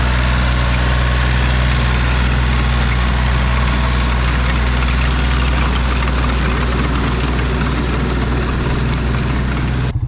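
A tractor engine runs steadily while tilling a garden, a loud, continuous low rumble that holds an even pitch for the whole stretch, with no voices over it.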